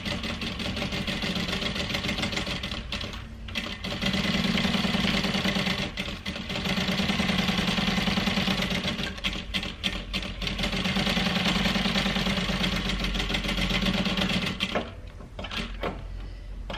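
A domestic sewing machine stitches a handbag seam with a steady mechanical whirr and rapid needle clatter, running in long even stretches with short pauses, close and fairly loud with no talking.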